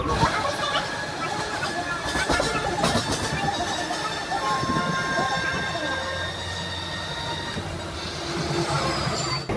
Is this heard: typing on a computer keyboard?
no